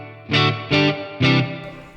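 Three loud distorted guitar strums in a row, each ringing out into a washy reverb tail that lingers after the last chord.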